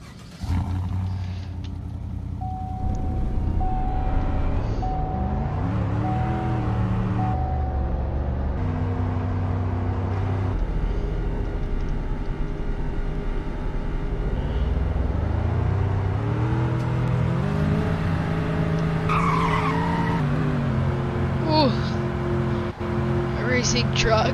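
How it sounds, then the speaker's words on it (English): Chevy Trail Boss trucks drag racing in GTA V, their engines roaring and revving through repeated gear shifts, dropping and then climbing in pitch, loud and continuous with someone talking over them. "Racing trucks."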